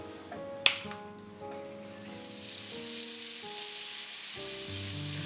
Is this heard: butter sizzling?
yes